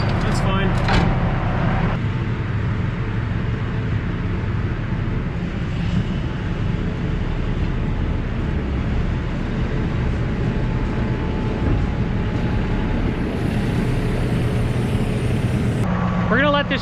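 Milk truck engine held at high idle of about 1100 RPM during warm-up, a steady loud diesel drone with low harmonic hum running throughout, with brief clatter near the start and end.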